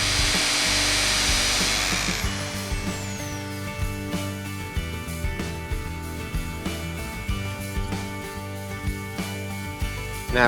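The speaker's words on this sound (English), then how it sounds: "And just drill down until I get to the tape." A hammer drill bores into a masonry wall for hanging hooks: a loud, high whining burst for the first couple of seconds, then a steady rattling, knocking grind as the bit works into the masonry.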